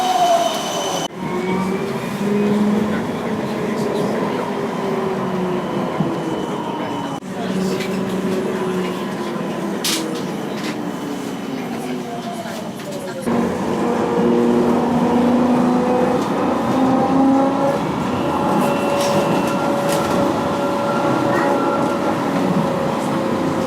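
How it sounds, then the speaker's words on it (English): Amsterdam tram ride, heard from inside the car: a steady rolling rumble with rising and falling motor whine and occasional wheel squeal, continuous and fairly loud throughout with no talking. "So I just got the tram, that was super easy."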